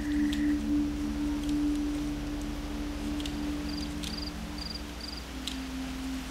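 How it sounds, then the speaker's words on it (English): Repeated short, high-pitched cricket chirping pulses in a regular pattern over a steady hum and background noise, moderately faint, with no speech. "Every time I hear those crickets, it means that I've gone the wrong way."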